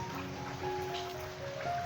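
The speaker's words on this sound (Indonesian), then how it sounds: "Suasanane udan sedulur." Rain falling steadily at a village home in Java, a soft continuous patter and wash of drops with faint tonal hum in the background, no voices.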